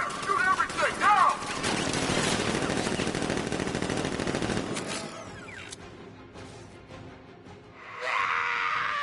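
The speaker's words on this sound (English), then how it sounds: "Open fire! Shoot everything, now!" Heavy gunfire in the Batman: Arkham Knight video game, dense rapid automatic bursts for several seconds that thin out into scattered shots and crashes, with a loud noisy burst near the end.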